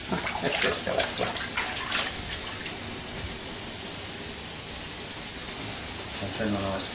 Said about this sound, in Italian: E questa è l'acqua.